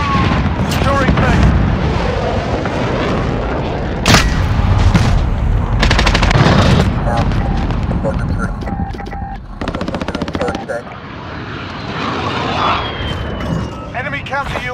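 Sustained machine-gun bursts and single shots in a Modern Warfare desert multiplayer match, loud and close with a few heavy booms, overlapping in-game radio voices.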